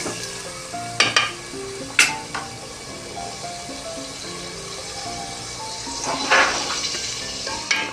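Tomatoes and chicken sizzle steadily in a pan as they are browned, with a few sharp spatula knocks and scrapes against the metal; the frying hiss is continuous and fairly close.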